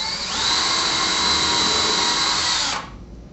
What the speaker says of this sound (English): place our drill at the point where we're going to be putting in the trim head screw